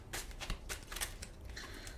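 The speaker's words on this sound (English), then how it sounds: "still going through a little bit of shuffling" A deck of tarot cards is shuffled by hand, a run of quick riffling flutters and soft slaps in an irregular rhythm, close and fairly quiet, with no speech.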